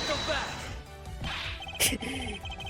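A mirror wall shatters in the Ace Attorney Investigations game as a sharp, loud glass crash bursts out amid swishing effects, with a voice speaking around it.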